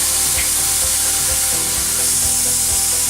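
Steady broadband sizzle of curry sauce frying in a hot frying pan, continuous hiss with faint low clatter, no talking.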